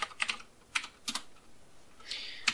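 A few separate bursts of keystrokes sound close by on a computer keyboard as a password is entered, irregular clusters of crisp clicks with short pauses between them and no talking.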